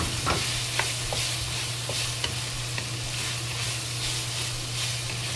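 Pork with a pinch of spices and black pepper stir-frying in a pan, a dense steady sizzle close up with regular spatula scrapes and taps every half second or so over a constant low hum.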